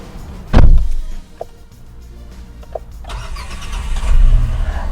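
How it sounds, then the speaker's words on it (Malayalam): A Renault Kiger compact SUV's engine cranks and catches with a loud roar, then drops to a quieter, steady idle before revving slightly toward the end. "നമുക്ക് വണ്ടി സ്റ്റാർട്ട് ചെയ്ത് നോക്കാം"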